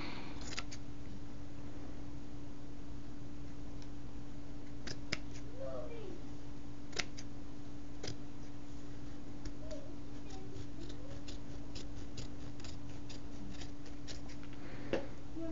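Scissors snip through fabric scraps in a run of sharp, crisp cuts spaced a second or so apart, fairly quiet and close, over a steady low electrical hum.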